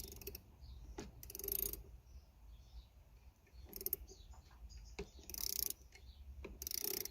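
A ratcheting 12mm spinner turns to adjust the park brake on a Honda Accord, sending out quick bursts of clicking ratchet teeth separated by short pauses, close and fairly quiet.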